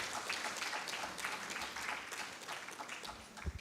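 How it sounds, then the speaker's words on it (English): A conference audience claps for itself at the close of a summit day, steady mid-level applause from a roomful of people with a few faint voices mixed in. "Can we clap for ourselves?"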